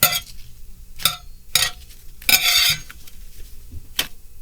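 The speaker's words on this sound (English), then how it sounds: "I'm using a knife to flip them over. That scraping is irritating" A knife scrapes across a very hot pan while tortillas are flipped, giving five or six short, sharp scraping strokes at irregular intervals, close by and with no talk.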